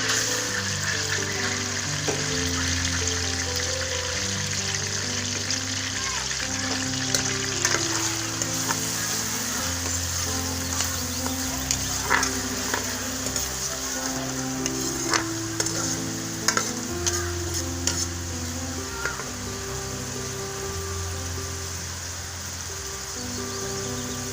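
Onions sizzle steadily in a hot pan while a utensil stirs and scrapes, with occasional clinks, close and continuous over the whole stretch.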